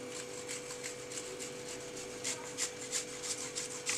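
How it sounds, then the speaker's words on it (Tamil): Fresh ginger rubs against a grater in quick, repeated rasping strokes, faint and close, growing more distinct and rhythmic in the second half. "இந்த மாதிரி இஞ்சி சீவுறதுல சீவி அதுக்கப்புறம் நம்ம புழிஞ்சு சார் எடுத்துக்கலாம்."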